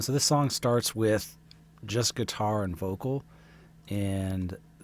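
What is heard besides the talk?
No everyday noises stand out.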